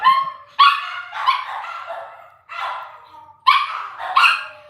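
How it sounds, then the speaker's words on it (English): Several dogs bark in short, sharp bursts with gaps between them, fairly close and clear in a quiet indoor room, with no voices over them. "The dogs."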